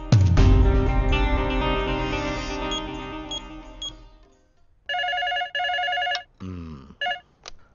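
An old-style telephone bell rings loudly in a film scene, first a long ringing tone that slowly fades, then shorter repeated ring bursts with gaps between them.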